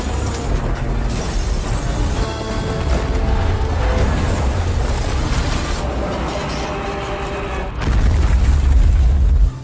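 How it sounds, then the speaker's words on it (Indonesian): A loud, rumbling explosion in a disaster film rolls on with crashing debris and a deep roaring swell, sparking a large fire, that surges again toward the end. "tiba-tiba sesuatu meledak hingga memicu kebakaran cukup besar"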